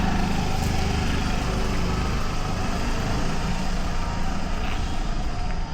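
A 125cc motorcycle engine runs steadily and close by for the whole stretch, a constant buzzing drone with no pauses and no voices.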